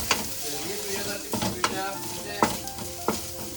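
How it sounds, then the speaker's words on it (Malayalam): Grated coconut and onion fry in a pan while being stirred, with a steady sizzle and several sharp scraping strokes of the spoon close by, and no talking. "നല്ലപോലെ ഇളക്കാം."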